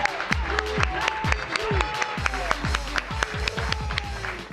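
Scattered, uneven clapping from an audience at a Poetry Out Loud student recitation event, with distinct individual claps and low thumps spread across a few seconds, thinning rather than building.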